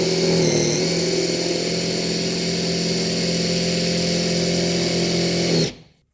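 A mechanical hand pump pushes gear oil into the differential of a 2009 Subaru Forester, a loud, steady mechanical drone held close for several seconds before cutting off abruptly.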